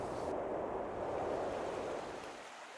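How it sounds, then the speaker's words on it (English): Open water rushes steadily beside the frozen Knik Glacier, a broad, close, continuous wash with wind over the microphone, easing off slightly near the end. "the open water, while it's somewhat scary, it's just neat to hear it and see it, and everything else is frozen"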